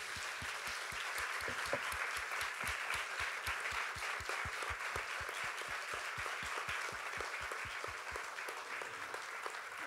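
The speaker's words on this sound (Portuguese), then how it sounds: "Uma salva de palmas para ele." An audience applauding at a music event honouring a veteran maestro, a dense, steady round of clapping at a moderate distance that fades slightly at the end.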